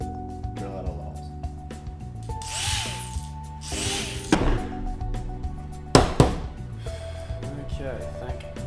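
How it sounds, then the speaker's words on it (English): A Dremel with a tiny bit drills holes through a dust mask, the high motor whine starting and stopping in short bursts with scraping contact noise, while a person speaks between passes. "drill out all the holes."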